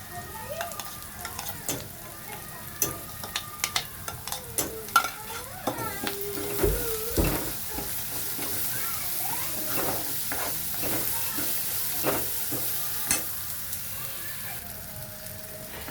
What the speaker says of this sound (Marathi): हा वाटण केलेलं आहे, हे वाटण टाकूया.